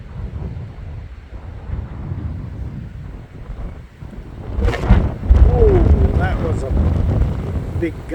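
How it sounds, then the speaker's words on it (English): A strong gust of wind buffets the microphone on a hot day outdoors in Perth, building into loud rumbling roar after a stretch of lighter wind noise. "Big gust of wind, it nearly blew me off this rock."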